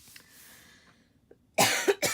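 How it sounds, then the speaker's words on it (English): A woman coughs at close range, two quick harsh bursts near the end after a stretch of quiet room tone. "It's so rude to be coughing."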